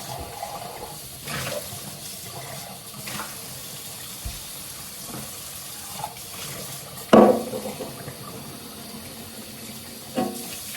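A kitchen sink tap runs while coffee cups and small tumblers are washed, a soft low trickle of water with intermittent splashes and a sharp clink of dishware partway through.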